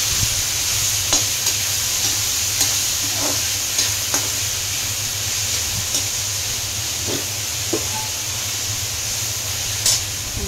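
Tomato masala cooks in a pan with a steady hissing sizzle and occasional light stirring clicks against the pan, continuous and fairly close, with no talking.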